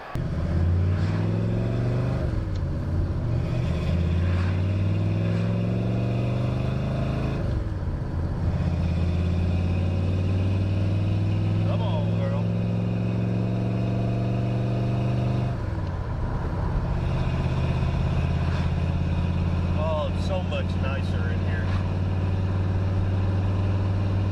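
A 20th Anniversary Ford Mustang GT350 V8 engine runs loudly and drives, with repeated rising revs through the gears and brief pauses between pulls, steady and close with no talking.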